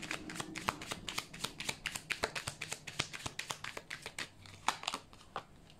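Tarot cards being shuffled and dealt, a dense run of crisp flicks and slaps, one after another, close and fairly quiet, with occasional sharper snaps and no talking.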